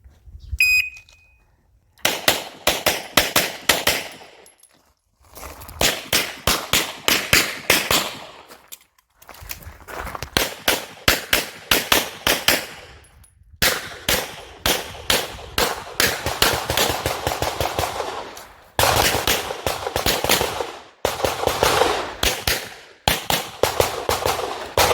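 A CZ Shadow 2 competition pistol fires in rapid strings of sharp, loud shots, broken by short pauses between bursts, with no talking.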